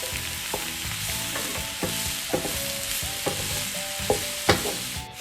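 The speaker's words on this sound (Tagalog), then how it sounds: "wag nyong i-cover yung ating cooking pan para hindi mag-water yung ating mushroom" Mushrooms sauté in an uncovered cooking pan with a steady close sizzle, broken by repeated scraping and clinking strokes of a utensil stirring them, no voices.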